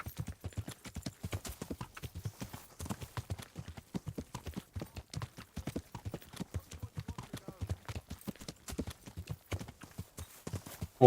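Horse hooves clip-clopping in the medieval video game Kingdom Come: Deliverance, a steady rapid rhythm of hoofbeats on a dirt road, continuous and moderately close, with faint talk underneath.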